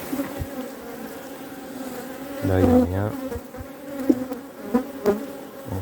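Honey bees buzz softly around an opened hive frame during queen-cell work, a low, steady hum close by while someone speaks French over it.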